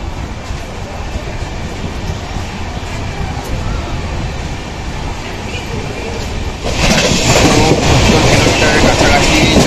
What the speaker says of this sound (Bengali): আমাদের ট্রেন দুর্গাপুর জংশন থেকে ছেড়ে দিয়েছে।